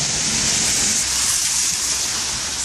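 Steady rain pours down on an outdoor street in damp, dreary weather, a continuous dense hiss that stays loud and unbroken throughout, with no voices.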